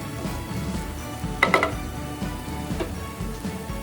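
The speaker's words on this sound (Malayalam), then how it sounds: "അപ്പോൾ നമ്മുടെ സബോളയും പച്ചമുളകും വെളുത്തുള്ളി എല്ലാം നല്ലോണം വഴഞ്ഞ് കിട്ടിയിട്ടുണ്ട്" Sliced onions, green chillies and garlic sautéing in a pan for a Kerala-style mutton curry, a soft low sizzle with a couple of sharp spoon clanks against the pan midway.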